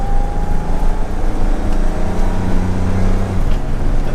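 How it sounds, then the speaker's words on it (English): A Jaguar E-type engine hums and drones loudly up close, its pitch shifting as the car is driven and gears are changed by hand, with steady road noise beneath. "See, I just shifted manually into second, but that was definitely third gear."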